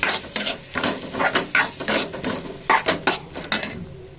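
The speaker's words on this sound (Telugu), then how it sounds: "దీంట్లోనే ఇన్ని టమాటా ముక్కలు వేసుకొని వేయించుకోవాలి" Tomato pieces with salt and turmeric fry in a pan for a potato-egg curry, a busy sizzle broken by repeated clinks and scrapes of a utensil against the pan, close up with no talking.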